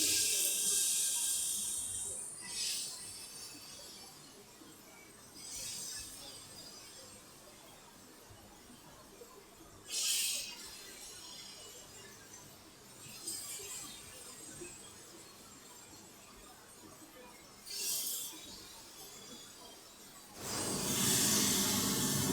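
Pieces of flour-coated chicken laid skin side down into hot oil, each producing a sharp sizzling hiss as it goes in, in periodic bursts of sizzling over a quieter steady crackle.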